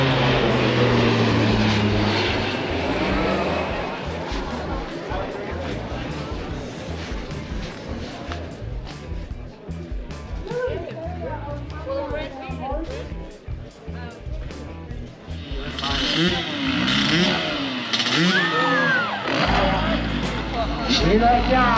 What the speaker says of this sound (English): Island aviation are having 2 helicopter flights across the road